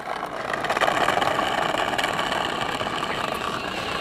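A small toy RC car is driven in a toy testing session, giving a steady buzzing motor whine with a rattling texture that runs continuously for the whole stretch at moderate loudness, with no talk.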